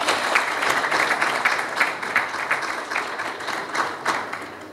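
An audience claps at a Simba football club sponsorship signing event, producing a sustained, fairly loud patter of many hands with slight rhythmic swells.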